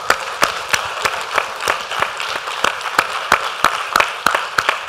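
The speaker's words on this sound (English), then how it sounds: "So maybe those of us who aren't wearing T-shirts can give them a clap." An audience gives the event organisers a round of applause, a moderate steady patter of individual claps in a hall with no talking over it.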